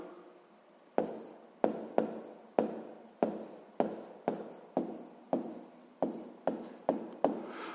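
Pen or chalk strokes set down a maths problem for a sixth-grade exercise, a steady series of about a dozen sharp taps and short scratchy strokes at an even rhythm, close and moderately quiet, with no talking.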